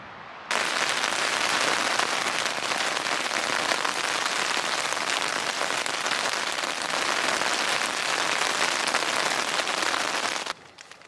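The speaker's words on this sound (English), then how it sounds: "It rained pretty good for about an hour and a half." Steady, dense rain drums on a tent during a stormy stretch of a Continental Divide Trail thru-hike, a loud continuous hiss with no pauses that cuts off abruptly near the end.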